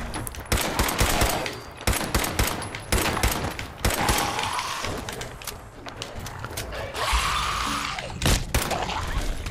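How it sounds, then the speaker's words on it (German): Rapid gunfire bursts in Fallout 4 combat, repeated sharp volleys of shots with short gaps between them, loud and close, with mechanical clatter in the pauses. "Schüsse in den Torso, um ihn abzustoppen."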